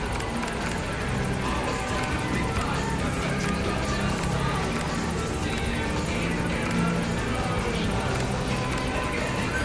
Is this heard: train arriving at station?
no